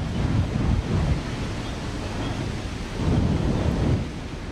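Flamethrowers test-fired at night on the banks of the river Main before a fireworks show give a loud, continuous roaring rush that swells early on and again near the end, with no voices.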